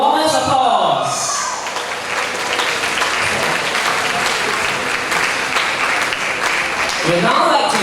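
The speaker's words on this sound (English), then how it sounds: "Let's give them our warmest applause." An audience at a school graduation ceremony breaks into sustained, loud applause that rises and holds steady, with a voice speaking briefly at the start and again at the end.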